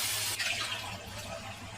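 Water is poured into a pot of meat being cooked for palak gosht, a brief close splashing pour that fades into a soft trickle, with no voices.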